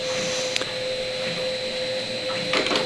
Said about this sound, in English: we can see the ratchet system here at work